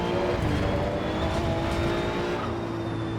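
A turbocharged Maserati GT2 race car in the sim racing game Assetto Corsa EVO gives a continuous loud engine roar with a steady tonal whine over dense rumble, close and unbroken throughout.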